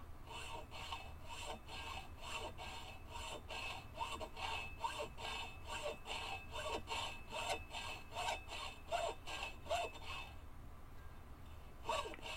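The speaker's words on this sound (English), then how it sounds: "So I'm going to start off with a hacksaw and saw this thing" A hacksaw cuts through a metal part of a clothes iron in steady back-and-forth strokes, each a rasping burst at a regular rhythm, close and fairly loud with no talking.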